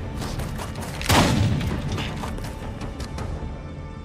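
Gunfire in the video game Days Gone: a sharp, loud boom bursts out midway and decays into a rumbling tail, surrounded by scattered mechanical clicks and thuds.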